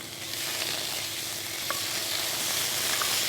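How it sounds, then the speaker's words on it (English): Vegetables with ginger-garlic paste sauté in hot oil for a vegetable biryani, making a loud, close, continuous sizzle. A couple of small clinks from stirring come through, and no one speaks. "Sauteing the vegetable takes around 5 minutes, not more than that."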